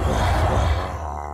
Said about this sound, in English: listen to those grunts and roars